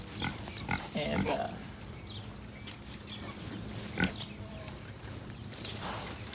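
Idaho Pasture Pigs grunt and root outdoors in a pasture, with scattered low snorts and shuffling in a steady, fairly faint mix and a few sharper bursts.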